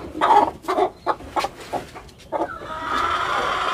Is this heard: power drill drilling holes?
no